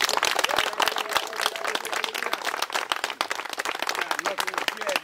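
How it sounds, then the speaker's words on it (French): A church congregation at a baptism service claps hard and fast in dense, loud, continuous applause, with voices mixed in beneath the clapping. "Applaudissons plus fort."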